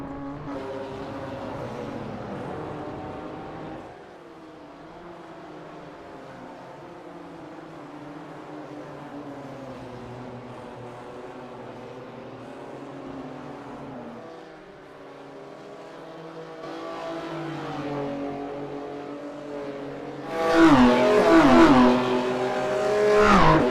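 Clubsport race cars circle a big gravel-lined track, engines droning and shifting pitch at a distance, with a louder, harsher revving car surging close near the end.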